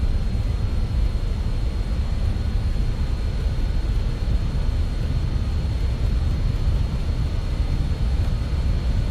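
Regional jet airliner engines spooling at takeoff thrust in Microsoft Flight Simulator, a steady, heavy low roar with a faint whine, loud and unbroken throughout.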